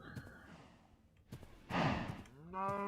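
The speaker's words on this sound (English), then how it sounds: "Got some cows over here." Cattle in the Minecraft video game give a few low, drawn-out moos, with a faint breathy sound in between, alone and fairly close.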